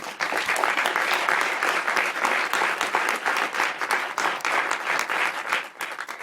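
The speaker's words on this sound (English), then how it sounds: "One more round of applause" Sustained applause from a large audience at a commencement address, a dense, steady roar of clapping that holds at full strength throughout.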